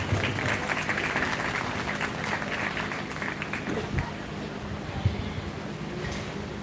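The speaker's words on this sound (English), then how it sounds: "Round of applause for our Pick a Pig program." Audience applause at a 4-H and FFA swine show at the Lancaster County fair, a steady broad wash of clapping from a crowd sustained throughout, with a voice faintly audible underneath.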